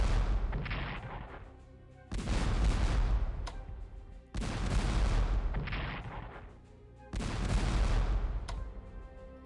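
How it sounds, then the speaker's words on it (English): Siege artillery fires in a Strategic Command Russo-Japanese War strategy game, four heavy booming blasts at roughly two-second intervals, each a loud broadband roar that slowly decays before the next shot. "so each siege artillery shot apparently reduces entrenchments by 2"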